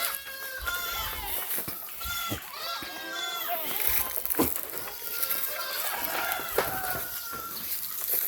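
Several goats, some pregnant, bleat repeatedly in a noisy farmyard, calls overlapping, with a rooster and people talking in the background.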